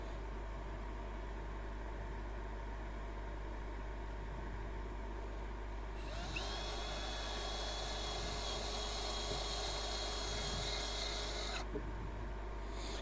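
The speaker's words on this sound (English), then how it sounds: "And it feels like my drill is about to give up on me." A steady drill motor drone, the drill overheating and burning up, with a high whine that rises partway through, then cuts out abruptly near the end.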